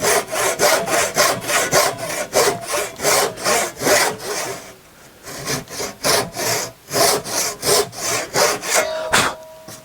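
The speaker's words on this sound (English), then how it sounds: "we're just going to saw down through the edge of this miter" A hand saw cuts down through the edge of a wooden miter on a sample piece. The close, loud, rhythmic back-and-forth strokes pause briefly midway, then resume at a steady pace.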